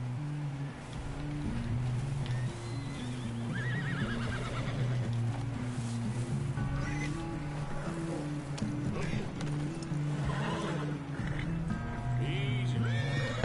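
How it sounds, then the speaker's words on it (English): Horse neighing and whinnying in a video game, several whinnies rising over a steady low hum and ambient background, fairly close, with no talking over them. "Tô acalmando o cavalo."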